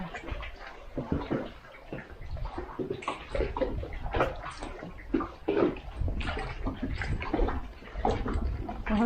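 Sea water sloshes and washes against rock in a cove nearby, surging in irregular bursts with gurgling and splashing, loud and close throughout.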